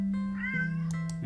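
A black cat in an itch.io video game lets out a drawn-out meow with a rising then falling pitch over a steady low hum, close and clear, with no one talking.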